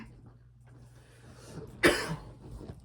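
A single sharp, close cough bursts out after a quiet stretch of low background hum, followed by a few softer breathy sounds.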